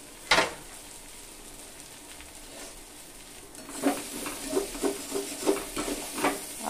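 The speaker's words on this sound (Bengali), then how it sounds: "আবার একটু নেড়ে চেড়ে দিব।" Chopped boiled egg pieces stirred in a pan over a low flame for an egg and flattened rice breakfast, making soft scraping strokes in a rhythmic series over a quiet sizzle, preceded by a single sharp knock.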